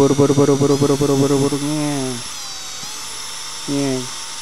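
A thin, high-pitched whine of a small drill fitted with a 1.5 mm bit runs steadily while a person talks over it, then continues alone with brief speech returning.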